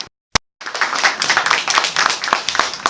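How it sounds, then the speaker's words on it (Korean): After a single sharp clap, a large audience at a brand forum in Korea bursts into steady, loud applause that fills the rest of the moment. "오늘 큰 박수 부탁드리겠습니다"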